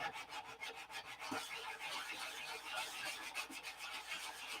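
Wood being sanded by hand in rhythmic back-and-forth rasping strokes, steady and fairly quiet throughout with no talking.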